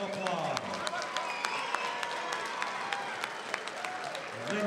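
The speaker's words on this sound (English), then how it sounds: "let's give both fighters a big round of applause." Applause for two boxers after six rounds, a crowd clapping steadily with cheers throughout, loud and continuous.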